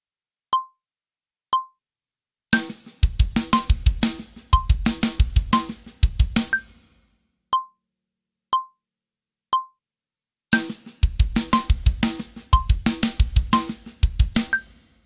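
A linear drum fill on a drum kit played to a metronome at 60 BPM: sharp evenly spaced clicks alone, then two dense bursts of rapid drum and cymbal strokes between them, close and clear.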